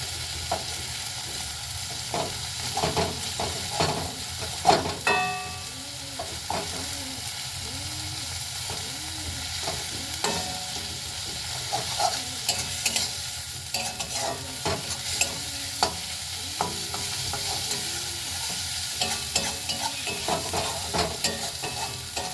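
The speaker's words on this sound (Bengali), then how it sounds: "চিংড়ি মাছগুলো এর মধ্যে যে রয়েছে আমি একটু অল্প করে খুন্তি করে ছোটো ছোটো করে কেটে দেবো" Prawns sizzle as they fry in a pan and a metal spatula chops them into small pieces, with steady frying hiss and repeated scraping, tapping strokes throughout and no talking.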